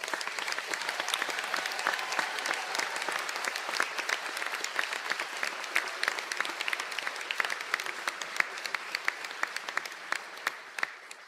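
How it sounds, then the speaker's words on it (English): Sustained applause fills a graduation conferring ceremony in Donegal, with a large audience clapping steadily and densely for about eleven seconds, no voices over it. "I think we might give them one more round of applause."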